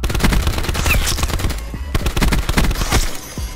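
A video game gun fires in dense rapid bursts, loud and close, with a short break near the middle before the shooting resumes.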